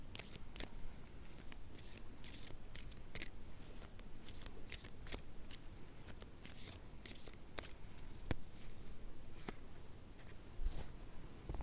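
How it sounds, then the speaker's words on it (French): A deck of cards is shuffled by hand in a quiet room, making soft continuous riffling with crisp clicking snaps scattered throughout, close but faint. "Alors, je bats les cartes."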